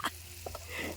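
Vadiyalu frying and being stirred in a pan in a village kitchen, with a steady close sizzle, a couple of brief scraping stirs, and a low hum underneath.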